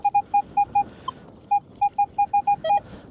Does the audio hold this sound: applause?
no